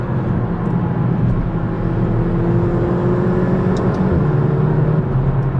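A McLaren GT on a dry road gives a steady, loud engine hum with a smooth drone of tyre and wind noise, holding constant throughout without a clear rise in revs.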